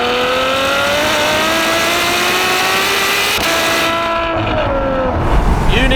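A 740 bhp Ferrari F12 with its V12 engine pulls hard through the revs, a loud rising wail close by that dips briefly at a gear change and climbs again before easing off.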